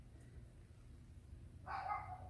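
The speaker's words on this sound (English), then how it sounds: "my neighbor dog, of course, is out there guarding us all against those evil people that live in his own mind" A neighbor's dog barks once outdoors in a Florida yard, a single muffled bark heard from a distance near the end, over low rumbling background noise.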